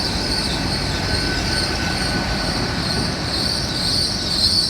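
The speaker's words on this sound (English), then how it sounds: "Got a terminating service from London Paddington now coming in." A nine-coach IET passenger train rolls steadily into Cheltenham Spa station at the end of its run from London Paddington, a loud continuous rumble with high wheel squeal sustained throughout.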